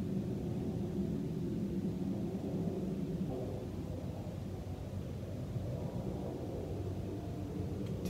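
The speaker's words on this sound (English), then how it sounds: "Today is a lot of planes." A steady, low rumbling drone of jet aircraft passing overhead, continuous for several seconds with a slight swell midway, moderately distant.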